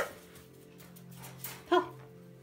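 Puppies at play, with one short, sharp yelp near the end rising out of a quiet room with a low steady hum.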